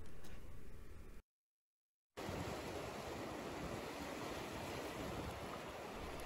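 Sea surf on a windy, cool day near Riga, a steady broad roar of waves and wind filling the scene, briefly cut to silence before resuming just as loud.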